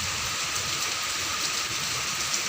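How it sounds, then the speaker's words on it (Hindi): Heavy rain pouring down steadily in Kharian Cantonment, Pakistan, a dense, constant hiss of water drumming on surfaces with no pauses. "ये देखें बहुत शदीद बारिश हो रही है"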